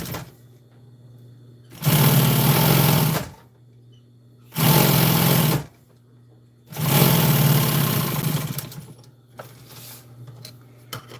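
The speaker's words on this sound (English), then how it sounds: "I'm gonna take and sew a strip on here just to make it stronger, so it don't tear this plastic." An industrial sewing machine sews a reinforcing strip onto heavy plastic for custom truck storage, three loud sustained whirring runs separated by pauses with a low motor hum underneath.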